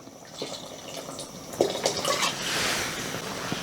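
Water pours steadily into a pot of simmering tomato gravy, a continuous liquid rush that swells in the second half, with a few faint clinks.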